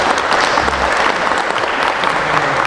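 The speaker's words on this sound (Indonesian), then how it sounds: "Baik, kita aplaus untuk mereka berdua." An audience at a university Ramadan talk applauds, a dense, steady clapping from many hands filling the room, loud and sustained throughout.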